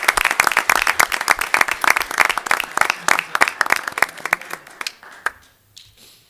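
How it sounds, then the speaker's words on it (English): Applause breaks out at a village board of trustees meeting, with many distinct hand claps close to the microphone that thin out and stop after about five seconds, leaving room noise. "Let's give him another round of applause."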